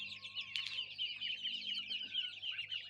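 A hen clucks and chicks peep busily and continuously close by, a dense chorus of high chirps with no talking.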